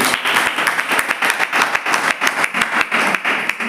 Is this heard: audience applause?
yes